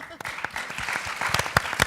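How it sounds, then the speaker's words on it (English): An audience giving a short burst of scattered, sparse clapping at a talk, with distinct individual claps under a speaking voice. "Let's applause."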